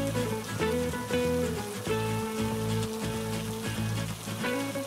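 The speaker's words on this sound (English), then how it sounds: "that water coming from the sky, that's called the rain" Steady rain pattering on a surface, a continuous dense hiss with a low tonal hum underneath, no voices.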